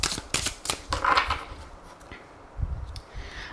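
Oracle cards are shuffled in a quick riffling flurry of papery slaps and flicks, then a pause and a softer second shuffle, close and alone without talk.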